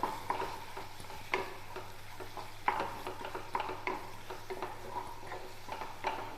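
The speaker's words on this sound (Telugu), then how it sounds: "ఇప్పుడు మంచిగా కలిపిద్దాం" A spoon stirs boiled egg curry in a pot, the eggs frying a little in the masala, giving repeated scraping and clacking strokes over a steady low sizzle, close and moderately loud.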